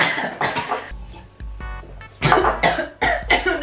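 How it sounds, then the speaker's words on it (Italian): Several harsh coughing bursts after drinking a fizzy drink, close and loud, in two clusters separated by a short gap. "Vi spara un botto di anidride carbonica in gola, cioè vi fa tossire un casino."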